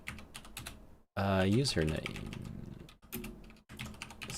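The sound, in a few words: typing on a computer keyboard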